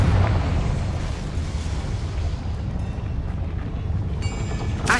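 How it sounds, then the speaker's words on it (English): A Confringo spell blast in Hogwarts Legacy on PS5: a loud, sustained booming rumble with crackling debris that fills the whole moment and rolls on without pause, ending with a brief bright burst. "Confringo."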